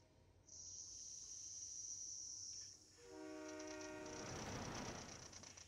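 Chiptune-style train sounds in a retro video game: a long high whistle tone, then layered horn-like tones and a rising rumbling swell, loud and steady with no talking.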